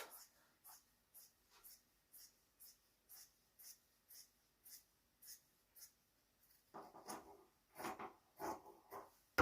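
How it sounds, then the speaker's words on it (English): A pen draws a line on fabric while a pillow is being made: a steady series of soft, scratchy strokes at an even rhythm, faint and close, that turns to louder, rougher rustling toward the end. "I will draw my line."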